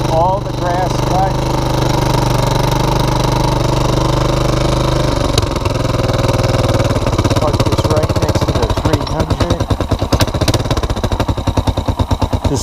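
A Honda TRX400 4x4 ATV engine idles loud and close, its steady rumble turning into a rapid, uneven chugging pulse partway through, with no speech over it.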